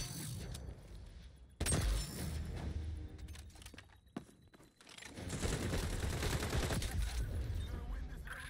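Rapid shotgun blasts and gunfire in the first-person shooter XDefiant, loud and dense bursts broken by a brief lull mid-clip, with a voice speaking faintly underneath.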